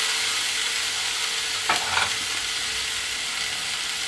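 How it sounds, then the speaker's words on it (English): Steak searing on a Tefal OptiGrill Elite contact grill, giving a constant close-up hiss with a brief crackling burst partway through. "insert your food, in goes the steak"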